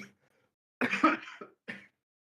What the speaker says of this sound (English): I'm sorry about the coughing, guys.